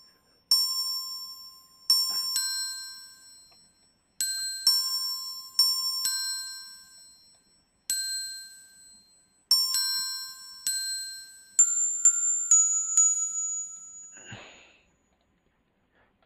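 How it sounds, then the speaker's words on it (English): Orchestral bells open a song, about a dozen bright struck notes in an unhurried melodic pattern, each ringing and fading before the next, heard alone without other instruments. "These are just the bells that'll play in the beginning."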